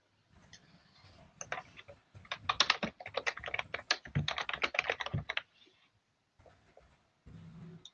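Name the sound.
typing on a computer keyboard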